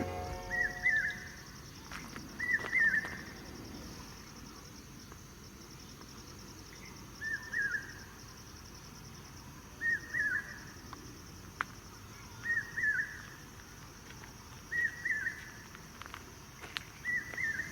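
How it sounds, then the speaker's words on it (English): Evening wildlife in Sri Lanka: short repeated chirping calls from insects and birds come in regular bursts every couple of seconds over a quiet, faint background. "You can hear different types of birds."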